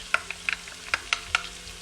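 Garlic hitting a hot pan already holding red bell peppers, giving a soft sizzle broken by a few crisp pops and clicks of stirring, quiet and close.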